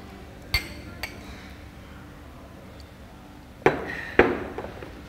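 Glasses clink in a toast at a farewell party, a few sharp clinks close by, one early and a louder cluster near the end, over a quiet room background.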